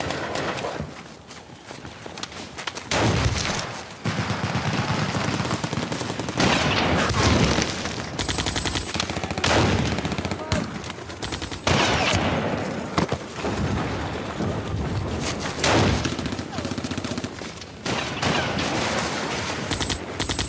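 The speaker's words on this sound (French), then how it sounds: "Les mitraillettes crachent, nos grenades explosent dans les rangs ennemis." Loud, continuous battle noise of rapid machine-gun fire with repeated heavy explosions from grenades, sustained bursts and blasts crowding the whole stretch.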